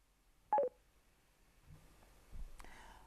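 A PACKTALK Bold motorcycle communicator placing a call sounds a short, clear burst of touch-tone dialing beeps early on, followed by faint quiet clicks and a brief soft noise toward the end.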